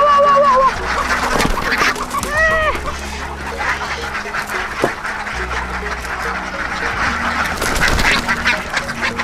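Farmed ducks, both drakes and hens, quack repeatedly at a home-scale duck hatchery, the hens loud and the drakes raspier, in a busy, noisy chorus close by.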